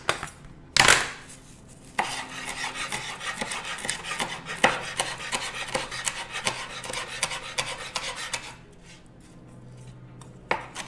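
Good kitchen knife chopping fresh chocolate mint leaves on a cutting board, rapid steady rhythmic chops with scraping, a sharp knock near the start, close and clear with no talk.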